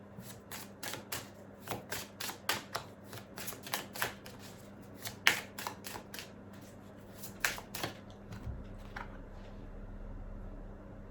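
Oracle cards being shuffled by hand, a quick run of crisp riffling flicks and taps close up, ending with a card drawn and set down in a quiet room.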